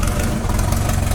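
A Ford Formula 2000 race car engine runs in a steady, close, loud low rumble that holds even throughout the brief moment.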